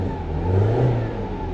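A car with a check engine light on and some exhaust smoke revs briefly: a short, loud mid-range engine roar that rises and eases within a second or two, close by and without speech.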